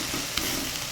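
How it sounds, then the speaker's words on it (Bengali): Jute greens stir-fried in oil in a pan, a dense, even sizzle heard up close with a brief spatula scrape partway through. "এখন আমি শাকটাকে এইভাবে করে অনেক সময় ধরে নেড়ে চেড়ে ভেজে নেব।"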